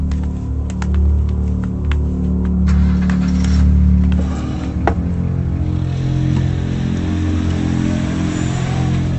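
A car engine runs steadily with a low rumble, rising slightly as it revs and pulls away, heard fairly close throughout with no talking.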